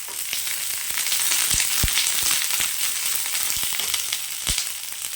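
Shallots and curry leaves fry steadily in hot oil for a mutton gravy, a dense continuous sizzle with occasional sharper pops and spatters, close and loud, with no talking.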